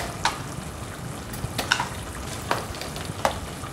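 Spices for lamb gule merah sautéing in a pan, a steady soft sizzle broken by a few sharp scrapes or stirs at intervals, close and moderately loud.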